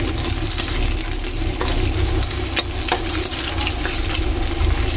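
Fried rice (sinangag) with two eggs sizzles steadily in a pan, with repeated stirring and scraping scratches, loud and close with no talk.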